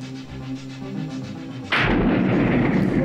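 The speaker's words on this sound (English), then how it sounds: "The taxi hit a mine." Landmine blast hit by a taxi in the film Escape from New York, a sudden loud booming explosion that cuts in over a low rumbling score and leaves a sustained roaring, crackling wash.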